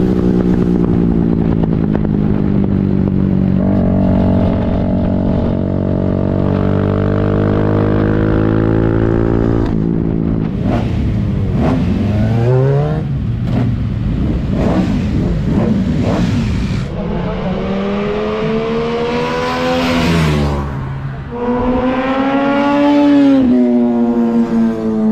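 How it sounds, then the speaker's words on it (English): Race-spec motorcycles lapping a track during training sessions, their engines droning continuously and loudly with repeated rising and falling revs as the bikes pass. "if you're hearing some bikes, there's still people doing some sessions"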